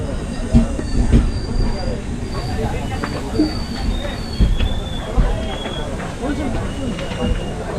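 Konkan Railway passenger train rolling steadily out of Khed, a continuous rumble with faint wheel squeals from inside a crowded coach, as people talk over it.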